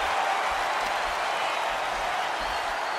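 A wrestling crowd in a video game Hell in a Cell match keeps up a steady roar of cheering and applause, loud and continuous with no pauses.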